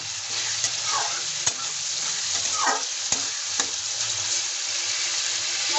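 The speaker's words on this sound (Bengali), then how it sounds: "মশলাটা আমি ভেজে নেব।" Spices and chopped green chillies fry in a pan for a vegetarian bottle gourd dish, sizzling steadily while a utensil scrapes and stirs them with a few sharp clinks, close and moderately loud.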